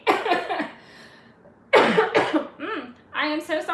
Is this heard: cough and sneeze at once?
yes